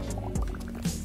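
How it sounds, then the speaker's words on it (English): Water filling with bubbles in a home setting, heard as short gurgling bubble pops and drips at close range, with a brief low splash. "Water."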